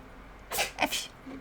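A single sharp sneeze, close and moderately loud, in an otherwise quiet room.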